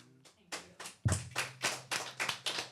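A few slow, distinct hand claps in sequence, close and fairly soft, with quiet voices and some low background tone on a podcast.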